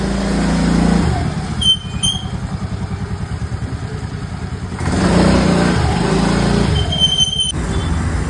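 A goods vehicle pulls up at a shop early in the morning, its engine droning loud and close with a rhythmic throb, revving and easing as it arrives.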